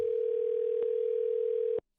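Steady continuous telephone dial tone on a call to a coin shop, holding for nearly two seconds before cutting off abruptly into silence.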